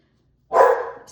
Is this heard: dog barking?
yes